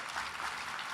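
Audience applause at the One Water Summit 2019 morning plenary, a dense, steady wash of clapping from a large crowd filling the whole second without a break.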